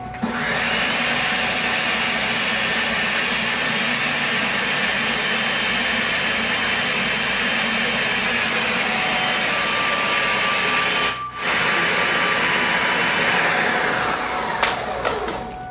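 A food processor blending raw vegan avocado dressing, a steady loud motor whir held for about eleven seconds, a brief dip in the middle, then more whirring and a few clunks at the end.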